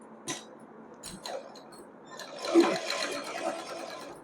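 A sewing machine stitching a fabric strip onto a salwar suit, a soft steady whir rising midway after a few faint clicks and handling sounds, with no talk over it.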